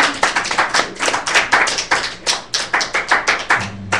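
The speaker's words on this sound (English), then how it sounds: "Come on, get a father hand clap" A church congregation claps by hand in praise, loud and close, with sharp rhythmic claps in a fairly regular beat and a brief low voice at the end.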